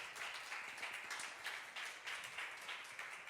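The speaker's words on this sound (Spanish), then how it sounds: "¿Cuántos le dan un aplauso al Señor?" A church congregation applauds during a Spanish-language sermon, with soft, steady clapping from many people, distant and continuous throughout.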